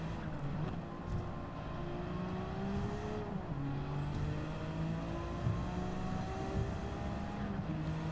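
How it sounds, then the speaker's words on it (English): Nissan GT-R engine in a racing video game, revving and climbing through gears on a fast track with rising and falling engine tones, a steady loud drone with no talk. "Hit the gas."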